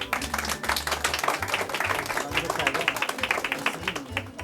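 Applause and clapping from an audience at a gendarmerie and coast guard event, dense and steady under a murmuring crowd throughout.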